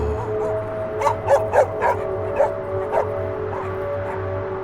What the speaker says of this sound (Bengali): কুকুরগুলো একসাথে হাউল করতে লাগলো